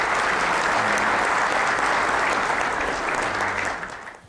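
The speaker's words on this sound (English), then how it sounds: "Ladies and gentlemen, please give a nice round of applause for Edmund Campion of APR Energy." Steady applause from a large crowd, dense and continuous, fading slightly at the very end.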